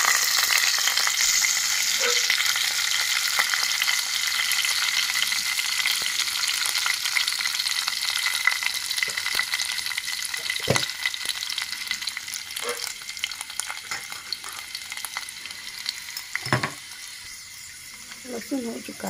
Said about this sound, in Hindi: लहसुन थोड़ा पकने दो।